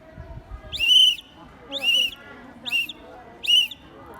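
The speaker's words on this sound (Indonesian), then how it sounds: "Morse huruf B dilambangkan dengan garis, titik, titik, titik. Jika digunakan menggunakan peluit, jadinya seperti" Four high, clear whistle blasts spelling the Morse code letter B: one long, then three short, evenly spaced, with faint background noise between them.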